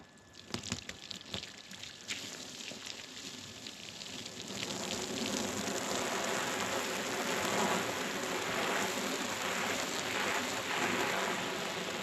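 Water pours steadily onto a burlap-crete surface of an outdoor kitchen like heavy rain, starting with scattered splashes and building after a few seconds into a continuous loud patter.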